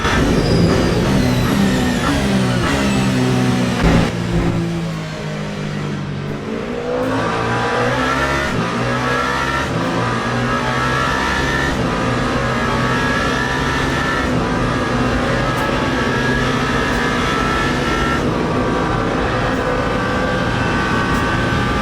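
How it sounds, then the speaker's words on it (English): Penske Porsche race car in the Le Mans Ultimate game at the 24 Hours of Le Mans on hard tires, its engine roaring steadily and loudly throughout, with a brief dip in pitch as it shifts before revving back up. "right now we are racing with Kevin Estra in the Penske Porsche"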